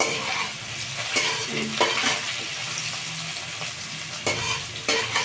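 Potatoes frying in a pan, a steady close sizzle broken by repeated stirring scrapes and knocks of a spatula, no speech.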